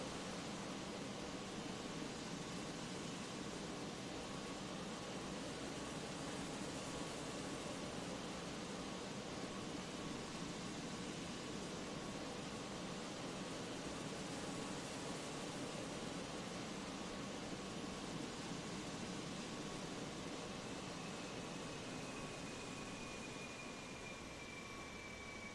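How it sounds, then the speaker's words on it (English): Airbus A320 airliner engines in Microsoft Flight Simulator, a loud, steady broadband roar that holds unbroken for the whole stretch, with no voices over it. "I think that's that plane over there making all that noise."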